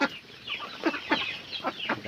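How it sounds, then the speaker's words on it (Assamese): Chickens cluck close by during morning feeding chores on a small village farm in Dehingmukh, Assam, giving a quick run of short, sharp clucks. "কুকুৰা মেলিব আছে,"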